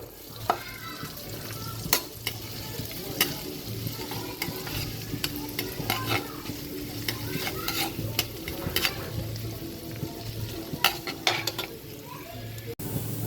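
Garlic and butter sizzle steadily in a hot pan with a constant frying crackle. A utensil scrapes and stirs now and then, making clicks and clatter. No one speaks.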